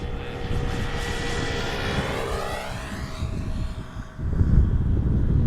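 A KLM Boeing 737-800 arriving from Paris lands at Amsterdam Schiphol in a crosswind, its jet roar loud and sustained, falling in pitch as it passes, then a burst of rumbling wind-buffeted noise at touchdown.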